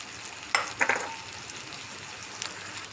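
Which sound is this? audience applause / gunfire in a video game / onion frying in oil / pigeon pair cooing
onion frying in oil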